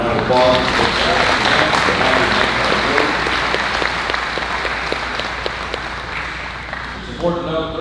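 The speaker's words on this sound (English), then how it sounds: "So let's give all these scholarship winners a round of applause." A crowd at a livestock sale of champions applauds scholarship winners with sustained, loud clapping, and a voice speaks briefly at the start and end.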